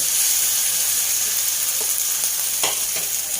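Long beans stir-fry over high heat in a hot pan, a loud, steady sizzle and hiss filling the whole moment with a few faint stirring scrapes and no speech.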